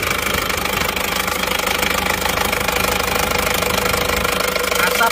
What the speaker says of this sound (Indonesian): Terus bagaimanakah dengan suara mesinnya? Ini RPM kita tinggikan